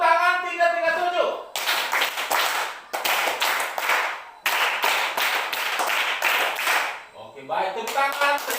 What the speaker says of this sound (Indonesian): Tepuk tangan 337.